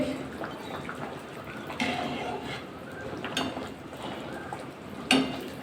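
A kadai (wok) is washed with water: faint splashing and trickling, with a few sharp metal clanks and scrapes of the pan at intervals.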